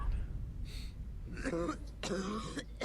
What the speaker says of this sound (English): that sounds like a real ass cough